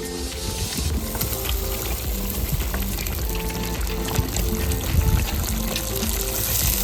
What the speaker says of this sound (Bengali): মাংস কষানো চলছে, এর মধ্যেই দিয়ে দেবো ভেজে রাখা আলু।